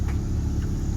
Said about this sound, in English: Yeah, that little motor going.